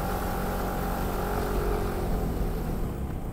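A motorcycle labours up a steep hill road in Mabini at low speed, its engine droning steadily and strained under heavy, continuous wind rush.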